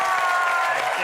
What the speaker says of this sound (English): that's enough applause for him